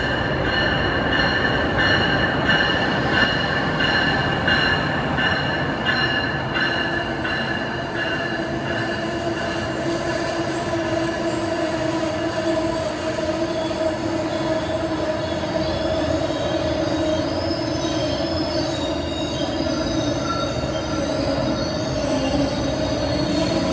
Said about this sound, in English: Here comes train 137,